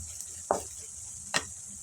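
Turmeric and garam masala are stirred in a pan with two short spoon scrapes about a second apart, over a faint steady sizzle. No one speaks.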